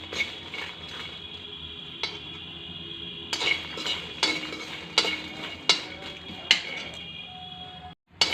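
A spoon keeps scraping and clinking against a pan while edible gum fries over a medium flame. The clinks are sharp and irregular over a faint sizzle, with no talk.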